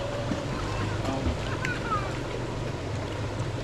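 A river's current rushes as a continuous, moderately loud broadband wash with some low rumble, under brief snatches of voices and wind buffeting.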